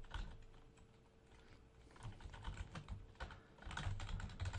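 Rapid typing on a computer keyboard while entering Java code, an uneven run of close, crisp key clicks that speeds up toward the end, with no voices.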